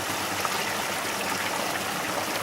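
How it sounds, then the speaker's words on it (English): Water rushing in a stream over moss-covered rocks on a trail, a constant broadband hiss of flow, near and steady with no voices. "The water is rushing."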